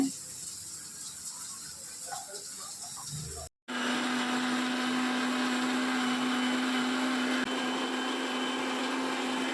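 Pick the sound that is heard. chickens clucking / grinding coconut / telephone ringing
grinding coconut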